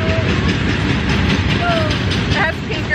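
A graffiti-covered train passing nearby, a steady rumbling rail noise with faint clicks and a brief squeal, while voices talk over it.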